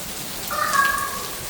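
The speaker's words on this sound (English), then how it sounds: "Look at this rain." Steady rain hisses across the whole stretch during a storm, with a brief tonal squeal rising midway over the wash; no talking.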